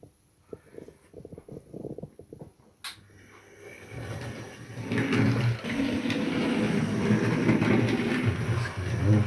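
Rail vehicle that had stood abandoned for five months moves along the track toward a far siding, its engine building from a low rumble to a steady mechanical drone with clanks at the start and no talking.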